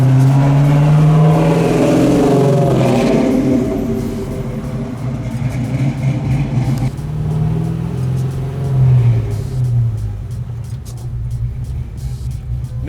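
Chevy Apache restomod pickup truck driving, its engine rumbling loudly and close, rising in a rev early on before settling into a steady cruising drone.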